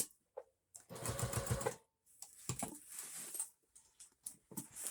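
A sewing machine stitches a costume in several bursts, fast close whirring runs separated by short pauses, with no talking.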